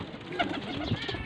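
Baby pigeons, ten youngsters kept for sale in Faisalabad, give soft, brief low coos close by, with a muffled background murmur underneath.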